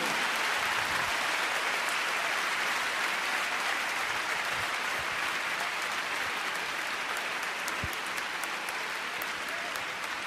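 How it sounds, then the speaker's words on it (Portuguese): A church congregation applauds during a worship service, a sustained, even roar of many clapping hands heard from a distance, steady throughout with no pauses. "Vamos aplaudir o Senhor."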